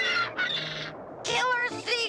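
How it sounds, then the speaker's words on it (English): A seagull in a 1985 animated cartoon lets out two loud, harsh squawking cries separated by a short gap, each rising and wavering in pitch. "Killer seagull!"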